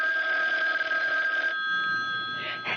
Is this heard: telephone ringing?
yes